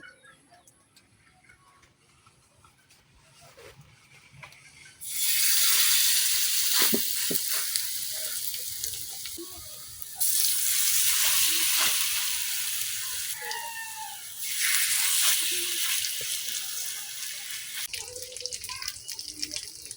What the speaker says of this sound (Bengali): এখন আমি একটা একটা করে বড়া দিয়ে লইতেছি